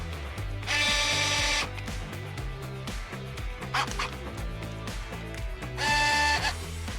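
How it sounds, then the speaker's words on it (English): An electric screwdriver drives 8mm screws into RC car suspension arms, giving two loud whirring bursts at the start and end. Lower motor hums and clicks fill the stretch between them. "so I'm switching to the electric screwdriver"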